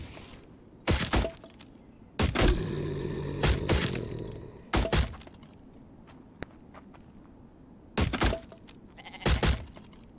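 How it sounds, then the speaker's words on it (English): A goat bleats in the video game Infected, several loud bursts spaced irregularly across the stretch, with footsteps and faint game thumps between them. "Oh, I hear a goat."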